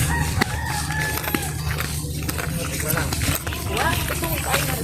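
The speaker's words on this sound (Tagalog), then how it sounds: "Ito yung manok ko." A rooster crows and chickens cluck nearby on a rural hillside farm, with repeated short calls over a constant low rumble and people talking in the background.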